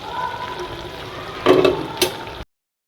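Fish dropped into a simmering Malabar spinach curry, giving a soft steady sizzle and bubbling that swells in two brief bursts of frying noise before the sound cuts off.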